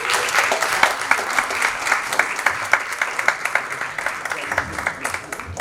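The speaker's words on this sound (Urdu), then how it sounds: "بھرپور تالیوں میں دعوت دیتا ہوں سیف اللہ سیفی صاحب" An audience at a South Asian festival in London applauds to welcome a poet to the stage, many hands clapping in a lively, uneven patter that holds steady, with some crowd murmur beneath.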